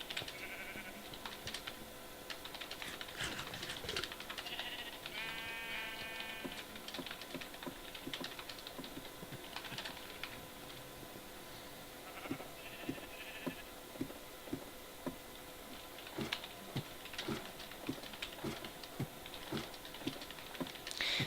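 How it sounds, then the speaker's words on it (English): Computer keys clatter in uneven bursts of quick taps, fairly faint and close, while soft game sounds hum beneath. "So sorry guys, I was typing."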